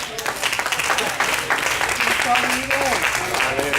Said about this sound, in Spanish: Desde atrás un aplauso al Señor.